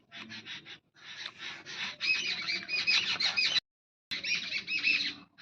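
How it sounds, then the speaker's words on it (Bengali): A flock of birds squawks and chatters in dense, overlapping bursts near a rural home, with a brief pause before the harsh calls resume. "পাখিগুলো প্রচুর চালাক।"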